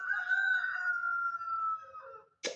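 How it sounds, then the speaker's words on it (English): A rooster crows in one long drawn-out call, fairly close, followed by a short sharp burst of noise at the end. "Oh my God, these chickens!"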